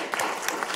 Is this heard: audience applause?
yes